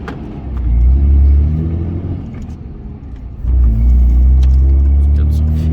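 A 2003 Ram 2500 Cummins diesel engine rumbles close up, surging twice as it revs, deep and throaty with a steady idle between.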